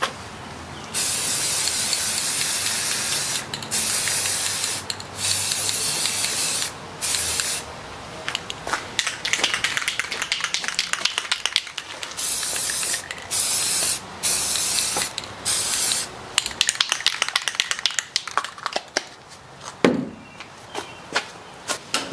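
Close spray-can hissing as a tan base coat goes onto a holster, long sustained bursts broken by short pauses, then quicker, choppier sprays toward the end.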